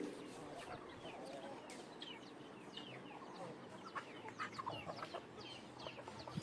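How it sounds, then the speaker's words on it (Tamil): Several chickens of different sizes cluck and chirp busily nearby on a farm, overlapping calls rising and falling over a soft outdoor background. "பெரிய கோழி வந்து சின்னதை சாப்பிட விடாது"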